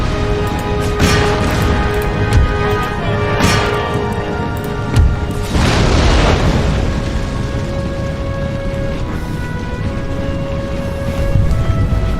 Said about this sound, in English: They use their cannon too.